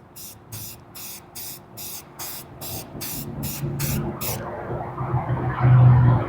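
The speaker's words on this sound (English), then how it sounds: "So, all right, so I'm spray painting." About ten short hissing bursts from an aerosol spray can painting a model rocket kit in a steady rhythm, close by, then fading into low background noise and murmuring.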